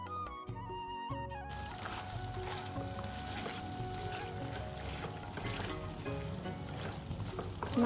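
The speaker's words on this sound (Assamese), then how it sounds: "ঢাকনিখন লগাই দিছোঁ আৰু অলপমান সময়ৰ কাৰণে মাংসখিনি ভালদৰে ভাজি ল'ম" Duck meat frying in a covered pan, a dense, continuous sizzle and crackle that swells suddenly about a second in and then holds steady and close, with no talking.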